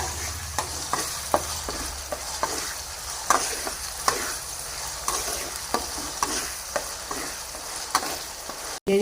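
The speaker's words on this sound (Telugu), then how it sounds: "ఇది బాగా కలుపుకొని వేపుకోవాలి." Green masala with ginger paste fries in a pan for hariyali chicken, a continuous close sizzle punctuated by regular spoon scrapes and taps as it is stirred.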